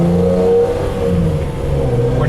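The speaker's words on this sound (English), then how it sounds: "You can still hear the throaty V12 motor up front." Inside a 1986 Ferrari 412i with a five-speed gearbox, the V12 engine hums steadily with a throaty, muffled drone under faint cabin road noise.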